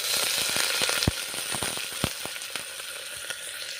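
Curry leaves frying in hot oil in a clay pot, a steady dense sizzle with scattered small pops and crackles, close and continuous with no voices.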